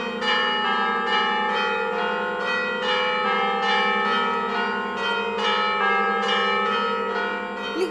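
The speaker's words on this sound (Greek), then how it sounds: "το χαρμόσυνο μήνυμα που ήχησε μέσα από τις καμπάνες του Μητροπολιτικού Ναού" The bells of the Metropolitan Church of Saint Minas peal continuously in a rhythmic, overlapping ring, loud and resonant with a sustained hum between strikes.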